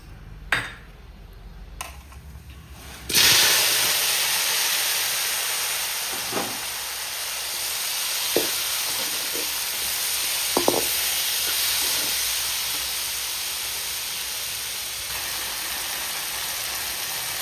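Loud, steady sizzling of mustard seeds frying in hot oil, a continuous hiss with a few faint pops and a clink.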